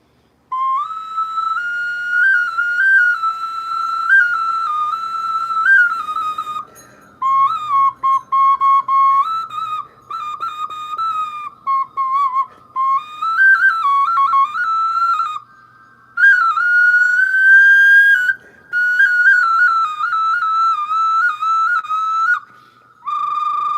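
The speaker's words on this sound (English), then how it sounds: "And here's one of my very first ocarinas." Glazed clay ocarina, an archaeological copy, played as a clear, pure whistling melody with sliding and wavering notes in phrases separated by short pauses, close and alone.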